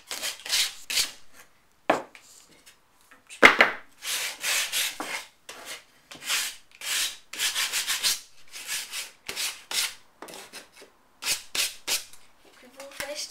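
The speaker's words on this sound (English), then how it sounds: "I am just sanding the wood off so it's not the sharp edges." Repeated rough scraping strokes of sandpaper by hand on wood for a bird box, in uneven bursts with short pauses, close and fairly loud.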